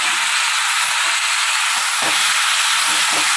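Food sizzles steadily in a hot pan, a constant bright hiss with occasional soft stirring scrapes, close by.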